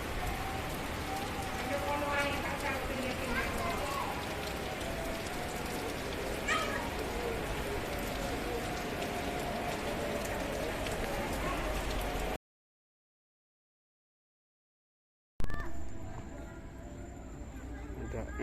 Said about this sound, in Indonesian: Hujan, angin.